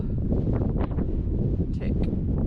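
Strong wind on the summit of Cut Hill, Dartmoor, roars and buffets the microphone continuously, with rustling gusts and faint voice-like sounds mixed into the blustery noise.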